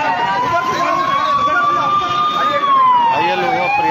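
A loud wailing fire engine siren rises and falls steadily over heavy engine rumble and background noise at a vehicle fire in Rishikesh, close by and continuous.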